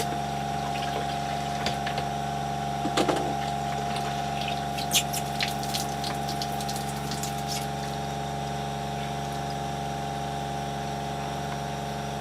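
A battery-powered watermaker pump aboard a boat anchored in a bay makes drinking water. It holds a steady, loud mechanical drone with constant tonal hum, and faint clicks and splashes sit in the background.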